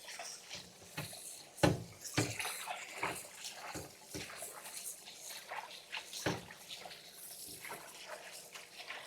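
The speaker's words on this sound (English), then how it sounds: "When I wash my tripe, I must not have any smell on it." Tripe being washed in water, sloshing and splashing liquid with intermittent knocks and handling sounds, close and fairly loud, no clear talk.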